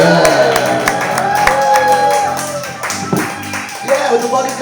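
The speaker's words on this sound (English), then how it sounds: "Please give him a warm welcome. Start clapping. Get loud." Audience clapping and cheering at a comedy club as a comedian is welcomed to the stage, sharp irregular claps mixed with crowd noise and music, loud and close, with voices shouting over it.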